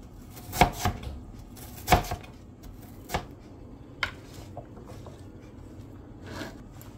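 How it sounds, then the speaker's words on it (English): A knife chops string beans on a cutting board, a few distinct thuds spaced about a second apart, close and moderately loud, followed by lighter scattered taps. "we're just gonna chop the string beans"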